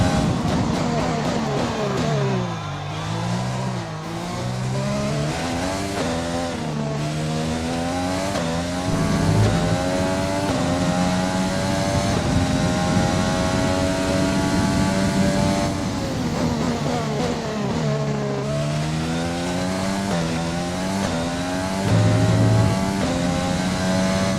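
F1 race car engine in the F1 2020 video game on the Bahrain GP circuit, a loud high-pitched engine whine rising and falling as it accelerates, shifts and brakes, continuous and up close.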